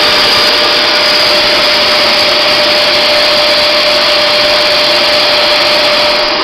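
A Hoover Max Extract 77 Multi-Surface Pro FH50240 carpet cleaner runs continuously, giving a loud, steady motor whine with a constant high-pitched tone and no pauses or voices.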